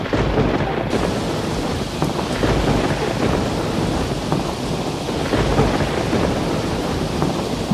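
Rain falling hard with rumbling thunder at the start of a storm, a loud, continuous wash of downpour with deep rolling rumbles underneath and no voices.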